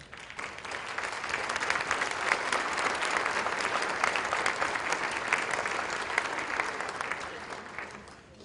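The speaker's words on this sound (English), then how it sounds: "give you a huge round of applause for all your work" Audience at the Summit of Hope 2014 gives a long, even round of applause, a continuous dense patter of many hands that swells slightly and holds for several seconds before tapering.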